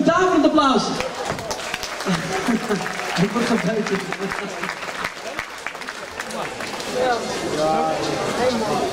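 Applause from the crowd at a boxing match, a dense, continuous clatter of clapping under loud talking in the ring.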